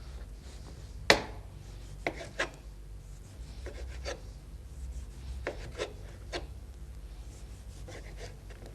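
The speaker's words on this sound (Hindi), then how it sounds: "इसी तरह से टमाटर के भी राउंडल्स काट लें।" A knife slices a tomato into rounds on a cutting board, giving one loud chop followed by a series of softer, irregular cuts that sound close and clear, with no talking.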